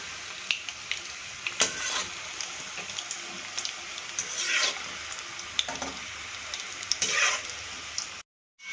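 Muthiya dumplings for a Gujarati shaak frying gently in oil in a pan, a soft, steady sizzle punctuated by occasional brief scraping stirs, close by and with no talking.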